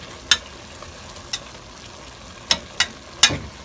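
A utensil stirs beef stroganoff in a sizzling pan, with a faint steady hiss broken by five sharp scrapes and clacks at uneven intervals, and no one talking.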